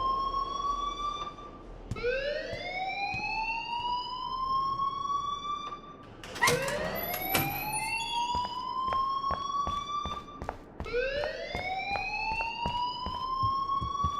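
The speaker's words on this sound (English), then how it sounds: "please turn off that alarm since that's your job" A rising, wailing alarm tone repeats in the video game Life is Strange, sweeping upward in long cycles roughly every four seconds, loud and steady with no one talking over it.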